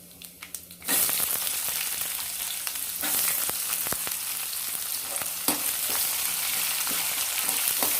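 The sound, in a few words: chopped onion frying in oil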